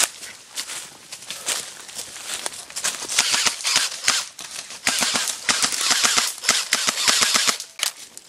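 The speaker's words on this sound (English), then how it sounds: "John is giving him some cover fire." Airsoft guns fire rapid bursts of sharp snapping shots as cover fire on an outdoor airsoft field, dense clusters of cracks coming in fast irregular runs, loud and close.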